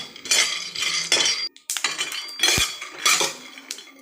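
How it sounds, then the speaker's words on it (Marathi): Peanuts are dry-roasted in a pan and stirred, giving loud, close bursts of rattling and metallic scraping in an uneven rhythm, with one brief pause. "मी आता हे शेंगदाणे ना भाजून घेते पिकी अगदी खरपूस भाजून घ्यायचेत आपल्याला"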